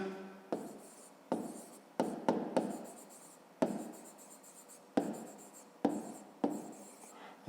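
A pen writes on paper in short, distinct bursts of scratching strokes, close and quiet, with brief pauses between words during a math lesson.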